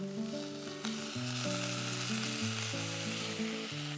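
Onion and boiled potatoes sizzle steadily in a pan for a Maharashtrian vegetable dish, a soft, even frying hiss that runs throughout under light melodic background music.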